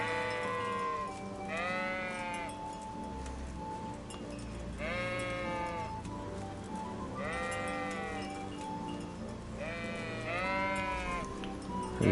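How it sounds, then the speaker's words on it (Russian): Sheep bleat repeatedly in the medieval game Kingdom Come: Deliverance, several drawn-out wavering calls spaced a few seconds apart over a soft ambient backdrop, fairly close and clear. "Ля бараны. Овцы бараны."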